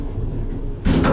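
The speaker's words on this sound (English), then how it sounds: "instant door close." Original Westinghouse auxiliary elevator at the Stamford Marriott: a steady low hum of the car, then the door abruptly slides shut with a loud rumbling thud near the end, nobody speaking.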